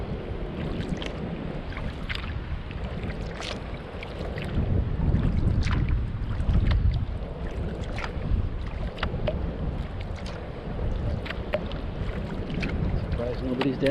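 Kayak paddled slowly along Turkey Creek after a hurricane, with repeated paddle splashes and dripping strokes over steady water and wind rumble, close to the microphone and without speech.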